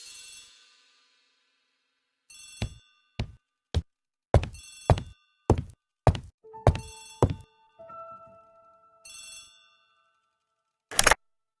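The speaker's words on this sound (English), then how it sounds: "The telephone in the hall is ringing." An old-fashioned telephone rings in a hall within the Agatha Christie ABC Murders game, a run of sharp, bright bell strikes spaced unevenly over several seconds, with a final loud ring after a short pause.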